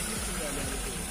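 Car engine at a used car market in Fergana, running with a steady low rumble and some rhythmic pulsing as the throttle is worked, close and continuous, with talk around it.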